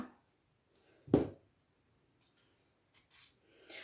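A knife chops through potatoes being cubed for potato salad, one sharp loud cut followed by a few faint scraping taps on the board, with quiet gaps between them.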